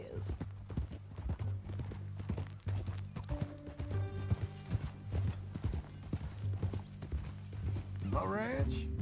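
Horse hooves clip-clop at a steady walking rhythm in the video game Red Dead, close and clear, with a short whinny near the end and occasional game sounds around them.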